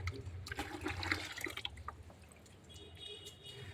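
A child waters plants such as tulsi and brinjal seedlings in a home kitchen garden, water splashing and trickling in uneven bursts for a few seconds, with a soft faucet-like running sound and background hum.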